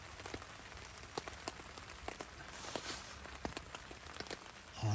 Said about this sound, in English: Just let this rain stop now.